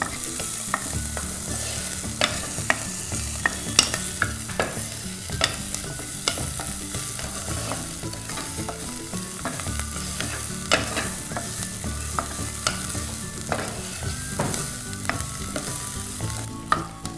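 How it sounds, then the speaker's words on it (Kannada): Curry leaves and onion frying in oil for Udupi sambar, a steady sizzle broken by frequent scraping strokes of a spoon stirring through the pan, close and fairly loud, with no voices. "ಕರಿಬೇವು ಈರುಳ್ಳಿ ಹಸಿ ವಾಸನೆ ಹೋಗೋ ತನಕ ಹುರ್ಕೊಳ್ಳೋಣ."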